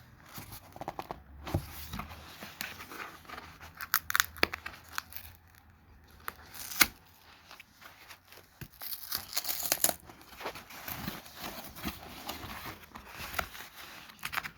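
Cardboard and plastic packaging of a Samsung Galaxy Note 20 Ultra 5G phone box crinkles, tears and rustles up close, in irregular bursts of handling and ripping with quieter pauses between.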